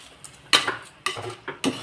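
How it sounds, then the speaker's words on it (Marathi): A spoon scrapes and clinks against a pan, stirring rice with sautéed vegetables for Maharashtrian masale bhat, in three or four distinct close strokes with quiet gaps between. "आता तो तांदूळ ह्याच्यात घालून घेऊयात। तांदूळ घालून अजून 2 मिनिटं चांगला भात हलवून घ्यायचा।"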